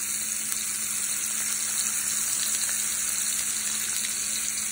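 A third cup of onions fries in a pan for a low-carb kelp noodle stir-fry, a loud, even sizzle that holds without pause and has no talk over it.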